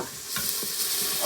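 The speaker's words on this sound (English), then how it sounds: "You're going to saute that for about a minute" Minced garlic sautéing in an Instant Pot, a close, continuous hiss of sizzling oil with faint stirring, brief and without talk.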